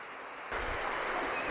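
A waterfall pours as a steady broadband rush, loud and close. It swells abruptly about half a second in and holds constant, with no voices.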